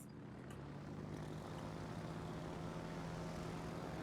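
Carrier-plane aircraft engines drone in World of Warships, a steady, faint propeller hum with no voices over it.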